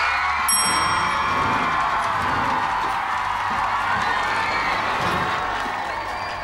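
Canned applause and cheering sound effect from the iCarly webshow, a bright crowd roar with whoops that opens with a short ringing ding and carries on steadily before easing off.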